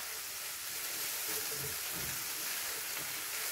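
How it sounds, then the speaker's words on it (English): Shiitake and mixed supermarket mushrooms, including chestnut mushrooms, frying in a pan over raised heat give off a steady, even sizzling hiss, fairly soft and continuous throughout, with no voices. "we're just going to give these a bit of a fry for a couple of minutes"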